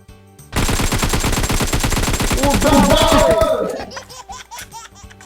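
Rapid, loud automatic bursts from a Groza rifle in PUBG Mobile, a dense close run of shots lasting about three seconds, with a voice laughing and shouting over the end before the firing stops.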